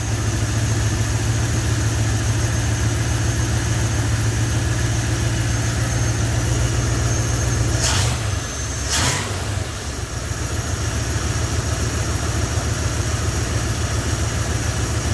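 A Dodge truck engine idles steadily after carburetor work, a loud, close, even low rumble that dips briefly with two sharp knocks midway, then settles back to a smooth idle.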